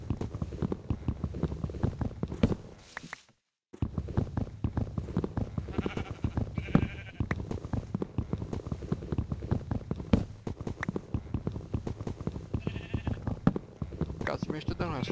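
Sheep bleat repeatedly in Minecraft survival gameplay. The short, game-style bleats recur alongside block-breaking clicks while someone talks over them.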